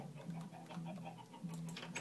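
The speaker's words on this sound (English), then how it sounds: "Chickens, be quiet." Chickens in the Minecraft video game, soft low clucks repeating in short bursts with a few brief higher squawks near the end, fairly faint and alone.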